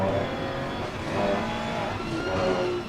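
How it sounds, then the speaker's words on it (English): Race car engine drone in the ACC sim racing game at Misano, Italy, a steady loud revving hum with slight rises and falls throughout, no talk. "I think I got a little loud on the engine noise"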